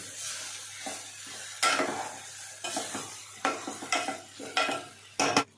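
Broken wheat dalia fries with vegetables in a pan, stirred in separate scraping strokes over a faint sizzle, with short pauses between the spoon sweeps.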